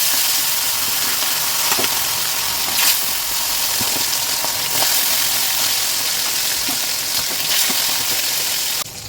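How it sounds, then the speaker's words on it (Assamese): Fish sizzling steadily in hot oil in a wok while being fried for an Assamese fish curry with papaya; a dense, continuous crackling hiss with a few sharper pops, close and fairly loud throughout. "তেলখিনি গৰম হোৱাত এতিয়া মই মাছকেইটা দি দিছোঁ।"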